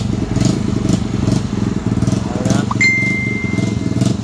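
Motorstar TMX 155 motorcycle engine idling close by, a steady low pulsing rumble that runs throughout, briefly joined by a short rising whine partway through.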